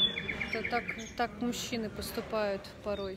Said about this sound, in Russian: это птицы поют или это в записи?